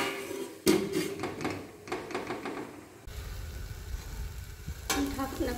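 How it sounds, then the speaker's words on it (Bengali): Garlic, greens and chili frying in a pan: a steady close sizzle with scraping stirring strokes, a louder clatter at the start and another near the end as the spatula knocks the pan, with no talk. "রসুন একটু লাল হয়ে গেছে, এখন দিয়ে দেব শাকগুলো, দিয়ে দেব লঙ্কা"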